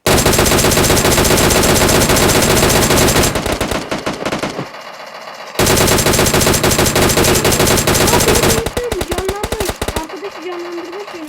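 Heavy automatic gunfire in the battle royale game PUBG, loud, dense rapid bursts filling most of the clip with short pauses between them, while players talk over it.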